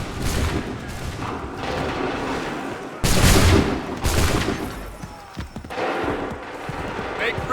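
Musket volleys in Assassin's Creed 3 crack out together as massed fire, with a heavy burst standing out amid continuous battlefield din and shouted commands.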